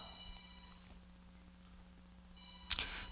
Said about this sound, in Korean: 주무시지 말라고 지금 벨소리가 울렸어요.